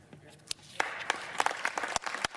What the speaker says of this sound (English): As the Senate applauded her decision to abandon the president